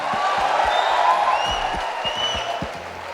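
Students applaud during an orientation session, a steady wash of many hands clapping at moderate loudness for about three seconds, with faint crowd murmur underneath.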